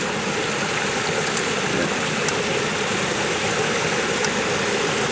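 A small stream on a farm in St Thomas, Jamaica, flows in a steady, full rush of water that never lets up, close to the listener, with a voice speaking briefly.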